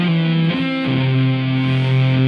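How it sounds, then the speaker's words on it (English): A Big Muff distortion pedal drives sustained, buzzing notes rich in overtones. The pitch shifts twice early on, then one tone holds steady at an even, loud level with no talking. "It's a big muff. So they technically it falls under a distortion."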